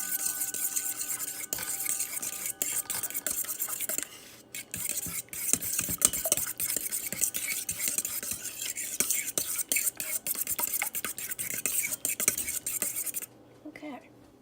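A utensil stirring sugar and cinnamon into an egg mixture for French toast, quick repeated scraping and clinking against a bowl, close and continuous, briefly pausing midway and stopping near the end.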